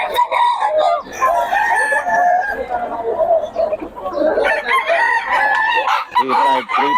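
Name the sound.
chickens and roosters crowing and clucking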